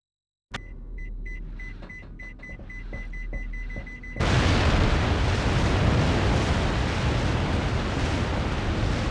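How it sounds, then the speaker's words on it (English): A beeping device in the video game Cold Fear gives a quickening series of beeps, then a loud explosion bursts out and turns into a sustained roaring rumble that carries on for several seconds. "It exploded as I went through the door."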